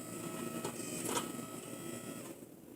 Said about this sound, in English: Squeezing it in my old Claiborne press.